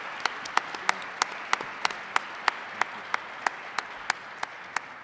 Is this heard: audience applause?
yes